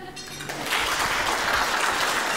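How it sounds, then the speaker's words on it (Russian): Guests at a child's first birthday party break into applause, a dense, steady wash of many hands clapping that swells after the first half-second and holds strong to the end. "под аплодисменты мы провожаем бабушек и дедушку за их почетные места"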